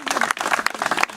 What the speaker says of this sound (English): a big round of applause for the musicians and for